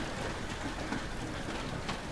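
Rain drums on a roof in the horror game I'm Counting to 6 as a steady, dense, even hiss with no pauses and no talking.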